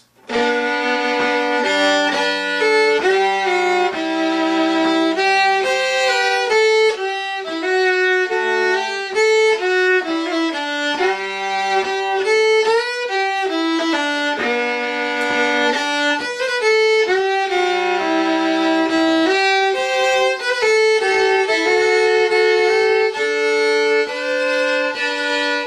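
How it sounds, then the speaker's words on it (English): A fiddle plays the tune Golden Slippers, bowing two strings at once so that a drone rings under the melody; the playing is lively and continuous, close and alone. "Full fiddle sound there with playing both strings at the same time."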